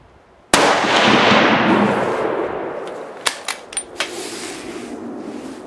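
A Remington 673 rifle fires one loud, sharp shot that leaves a long, fading echo. After it come several lighter metallic clicks and clacks.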